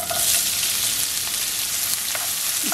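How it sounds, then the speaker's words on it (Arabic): Minced onion frying in hot oil, a loud continuous hissing sizzle close up, with faint scraping from stirring and no voices. "هنا أنا عندي زيت حمى شوية، راح نضيف البصل"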